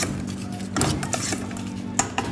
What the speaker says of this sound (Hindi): और अब अच्छे से भैया ने पूरा मिक्स किया इसको।